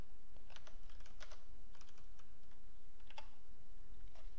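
Clicky typing on a computer keyboard while writing a Ruby method, irregular bursts of keystrokes over a low steady hum, close and fairly quiet, with no talking.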